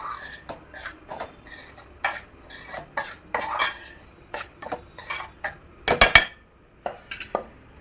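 Semolina roasts in ghee in a pan for rava kesari while a spoon stirs and scrapes, giving a steady run of close metallic clinks and taps that grow louder and sharper toward the end.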